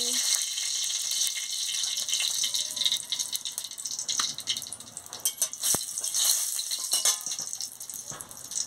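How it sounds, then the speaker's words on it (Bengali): Dried red chillies fry in hot oil in a wok, a loud constant crackling hiss with rattling bursts. A voice talks over it at times. "তেল গরম হয়ে গেছে, আমি শুকনো লঙ্কাটা দিয়ে দিচ্ছি"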